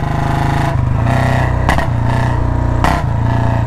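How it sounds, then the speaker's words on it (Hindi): A loud motorcycle engine revs up and down continuously, with sharp crackling pops bursting from the exhaust at a couple of points. "तो पटाखे हो जाए पटाखे"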